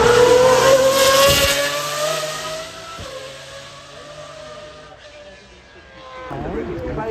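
Race car engine revving hard to around 9,000 RPM on the track at the Goodwood Festival of Speed, a loud rising mechanical howl up front that eases and fades, then builds again near the end amid crowd noise.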